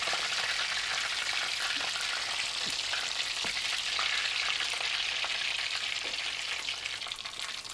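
Fish fries street-food style in a pan of hot oil, giving a loud, even hiss of bubbling close by, with faint bumps as the pieces are turned and no voices.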